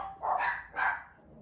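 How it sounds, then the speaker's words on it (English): Two quick, moderately loud barks from one of four household dogs, heard alone with a short gap between them. "Yes, I do have 4 dogs. There they are."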